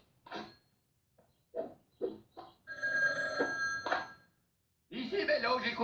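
A telephone rings in a Grojband cartoon, a shrill jangling bell after short bursts of animated voices, with more cartoon sound following.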